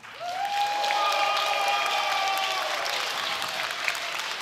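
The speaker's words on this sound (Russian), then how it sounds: "Похлопаем." Audience applause fills a live guitar battle event, a steady dense wash of clapping from a crowd that holds at full strength, with a faint whistle riding over it near the start.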